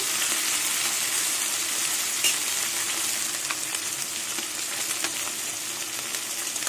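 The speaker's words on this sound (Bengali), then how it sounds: "এইভাবে সব মাছগুলো ভেজে নেব" Small Ganges river fish frying in oil in a wok, a dense, steady sizzle with faint crackles, close and continuous, with no voices.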